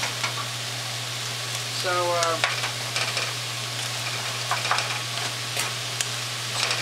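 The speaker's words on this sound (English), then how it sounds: "stir this up a little bit here." Carrot soup is stirred in a stock pot. A continuous bubbling, sizzling bed carries a few scraping and clinking utensil strokes, and someone speaks briefly partway through.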